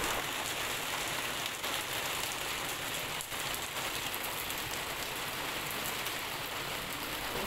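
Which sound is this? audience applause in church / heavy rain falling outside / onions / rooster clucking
heavy rain falling outside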